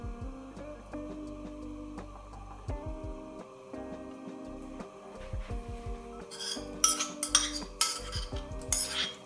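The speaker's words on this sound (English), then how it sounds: "I'm just gonna give the pasta a little stir" A spoon or utensil stirs spaghetti in a pot, with soft scraping and a few light clinks that grow busier toward the end, heard close over steady background music.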